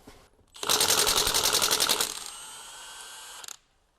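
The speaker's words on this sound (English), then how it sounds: "now we've jacked it off and we're going to remove the other bolts and remove the wheel." Impact wrench or ratchet rattling loose the wheel bolts on a jacked-up Jaguar F-Pace, a loud rapid buzzing burst of about one and a half seconds followed by a quieter whirring tail that stops abruptly.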